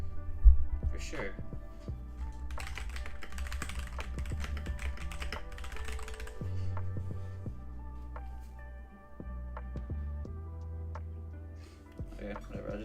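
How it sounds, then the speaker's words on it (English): Steady clicking of a computer keyboard being typed on, quick irregular keystrokes throughout, close and moderately loud with a low background hum. "Maybe I was typing too hard?"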